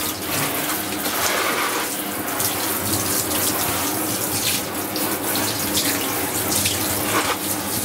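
A gaming mouse pad rinsed under a running tap, giving a steady, close, full splashing rush of water that runs without a break.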